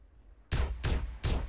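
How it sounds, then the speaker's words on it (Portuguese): Three loud gunshot bursts in GTA San Andreas multiplayer in quick succession after a brief quiet moment, each a sharp broadband blast with a short tail. "Eu tô ouvindo tiro."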